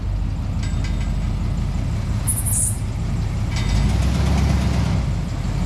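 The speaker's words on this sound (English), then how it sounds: "She's got a bit of an exhaust leak." A plow truck engine with an exhaust leak runs nearby in a continuous, heavy low rumble, holding steady throughout with a slight swell toward the end.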